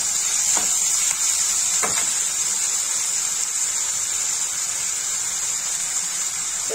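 Vegetables for sundakai pachadi sautéing in a pan, a steady close hiss of frying filling the whole stretch alone, with a couple of faint clicks near the start.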